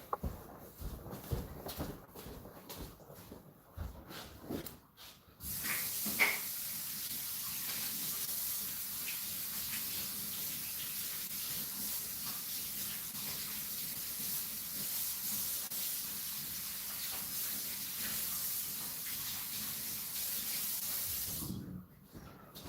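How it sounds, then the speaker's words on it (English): A tap runs steadily for handwashing, a constant close hiss of flowing water lasting most of the stretch, with faint rustling and clatter before it starts and a brief rustle after it stops. "I gotta wash my hands"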